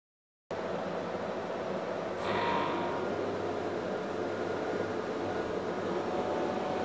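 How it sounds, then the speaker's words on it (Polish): A power generator running in a camper test setup, a steady broadband rushing drone that starts abruptly and continues evenly, with a brief brighter burst early on. "I agregat już pracuje."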